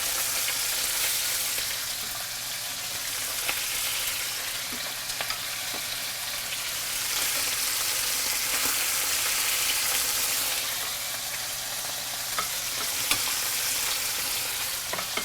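Chicken pieces fry steadily in garlic-flavored oil in a pan, a dense continuous sizzle with faint crackles and pops throughout, close and alone with no talking.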